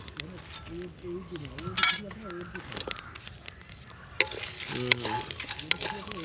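Whole cloves, peppercorns, cinnamon, cardamom and cumin roast lightly in a pan, a soft crackling sizzle with stirring scrapes while a person talks over it throughout.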